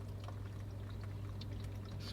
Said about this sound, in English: so the cool water runs down these